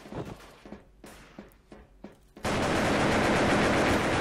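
Gunfire in the online shooter Wolfteam: a scattered run of sharp shots for the first half, then a sudden dense, continuous burst of loud automatic fire that holds steady to the end.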